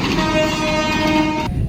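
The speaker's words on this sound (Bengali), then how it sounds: "ট্রেন যাচ্ছে এদিকে" A train passes close by on a rail line beside an agricultural university campus, a loud steady rumble with sustained horn-like tonal notes that cut off abruptly near the end.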